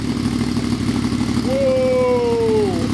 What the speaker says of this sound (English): we could give it its first fire for the exhaust note